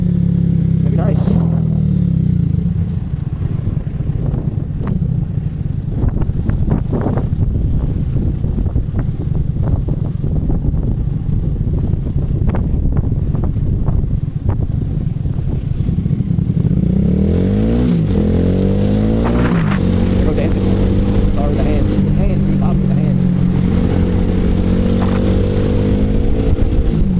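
A Honda Grom motorcycle rides through strong wind, its small engine droning steadily under heavy buffeting wind noise on the microphone, with a rising rev in the second half and someone talking over it.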